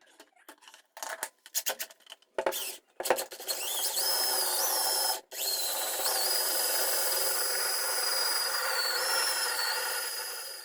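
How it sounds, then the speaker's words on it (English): A Ridgid Power Spin drain auger driven by a drill works at a clogged bidet. Scattered scraping and clicks come first, then a sustained, rising, whirring drill whine runs to the end with one brief pause. "It's made by Rigid. It's called the Rigid Power Spin. You can use it by hand, or I attached it to my drill here"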